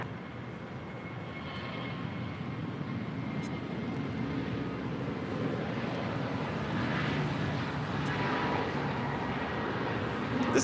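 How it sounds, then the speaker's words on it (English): American Airlines A321neo jet departing LAX for Washington National, a steady broad engine roar holding for the whole stretch and swelling slightly toward the end, heard from some distance with no talk. "This is American Airlines 2532 departing to Washington National on an A321neo."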